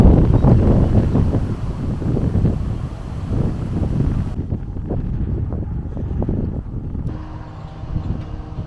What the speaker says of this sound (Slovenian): Ta stranski veter ni prav nič prijeten, pride sunk in moraš prav paziti, da te ne vrže po tleh.